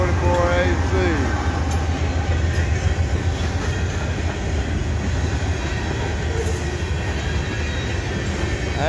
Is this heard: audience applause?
no